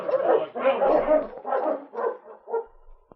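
Sled dogs bark and yip in a radio drama scene at feeding time, a pack of several dogs giving a series of close, loud barks that trail off into quieter yelps.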